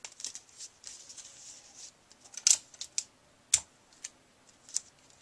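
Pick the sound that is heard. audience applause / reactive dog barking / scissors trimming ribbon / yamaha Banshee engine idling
scissors trimming ribbon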